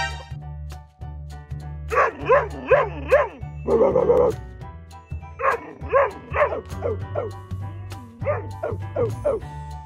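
A small dog barks in short yipping bursts and whimpers, with repeated rising whines and yips near and fairly loud over a steady low background tone, no talking.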